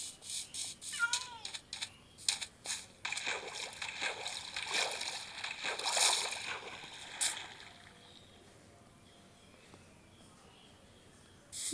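A cat meows several times in quick bursts near the start, mixed with splashing and rustling noises, then things settle into quiet background hiss toward the end.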